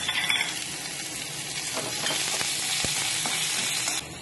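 Curry leaves, cumin, urad dal, garlic and onion frying in hot oil over a low flame, giving a steady close sizzle with a few light stirring scrapes.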